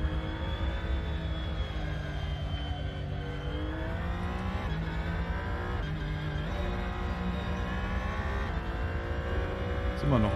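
Race car engine in the racing game Assetto Corsa drones continuously and loudly, its layered whining harmonics rising and falling with gear and throttle changes, with a few brief dips in pitch.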